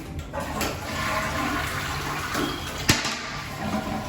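A toilet flushes in a condo bathroom, a steady broadband rush of water lasting the full few seconds, fairly close, with a brief sharp knock near the end and no talk.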